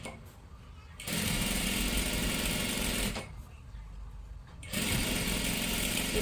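A sewing machine stitches along the edge of a fabric strip for a top, running in two steady bursts of rapid whirring separated by a short pause.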